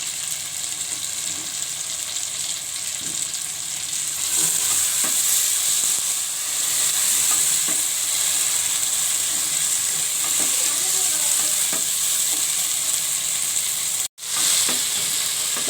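Potatoes fry in oil in a pan while making halwai-style puri chole, with a loud, continuous hissing sizzle and occasional stirring clinks, briefly cut near the end; no speech.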